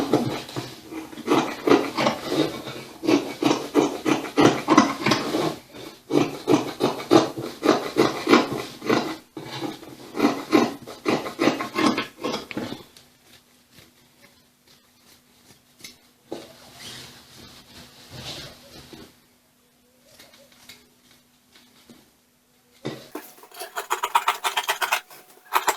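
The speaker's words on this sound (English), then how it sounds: "I'll trim off my excess." Excess fabric is trimmed from a sewn straight skirt, producing close, rhythmic rasping cuts for about thirteen seconds, followed by quieter intermittent handling noises.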